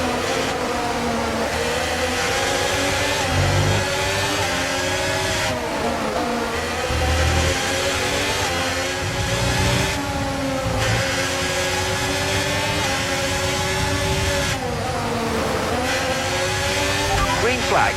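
Race cars in the F1 23 video game, a sustained, layered engine whine that rises and falls with gear changes and continues throughout, with someone talking over it.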